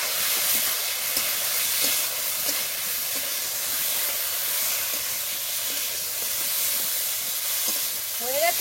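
Sauce hissing and sizzling steadily as it hits fried egg pakoras in a hot pan, a continuous broad frying hiss running throughout with no talking.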